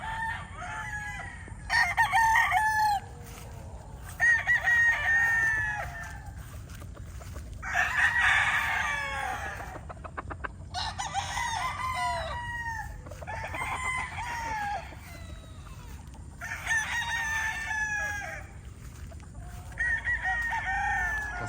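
Two roosters, one white and one gray, crow repeatedly and cluck between the calls. The loud crows come in bursts every few seconds, close by, with no talk.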